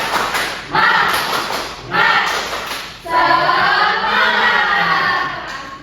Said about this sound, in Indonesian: Kita bersama-sama melakukan tepuk semangat ya